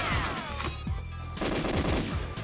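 Battle noise in the shooter GoldenEye, where a grenade goes off: loud, rapid repeated gunfire bursts with booming low thumps, continuous and close, no talking.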